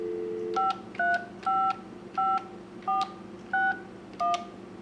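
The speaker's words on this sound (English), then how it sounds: "we'll dial a phone number in the other part of the house here that is also connected to the Broadband-Hamnet network" Touch-tone DTMF dialing on a VoIP phone connected to an Asterisk system on a Raspberry Pi, seven evenly spaced beeps in a steady rhythm, loud and clear, with no speech.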